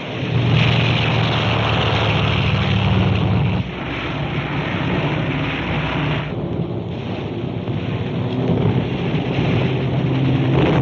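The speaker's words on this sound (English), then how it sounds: "Catapult plane being launched." A bomber's propeller engine roars continuously as it is catapult-launched from an aircraft carrier in a 1944 war film, a loud, dense, rumbling drone that dips briefly partway through, with no voices heard.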